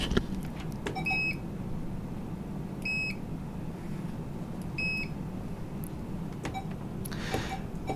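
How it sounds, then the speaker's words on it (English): Barcode scanner at a convenience store checkout beeps as items are scanned: three short, bright electronic beeps spaced about two seconds apart over a steady low room hum, with faint clicks and rustling between them. "To begin a sale, you'll need to start off by scanning your items in."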